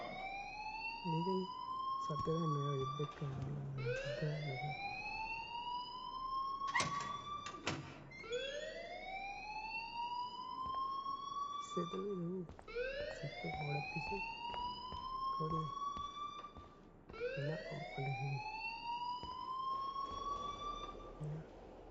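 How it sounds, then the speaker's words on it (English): A fire alarm wails inside a school in the game Life is Strange, with repeated rising electronic sweeps and brief gaps between them. Voices talk underneath the alarm, and a door thuds partway through. "please turn off that alarm since that's your job."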